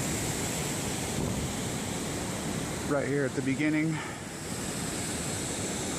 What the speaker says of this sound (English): Got Pyramid Creek still running at a pretty good clip.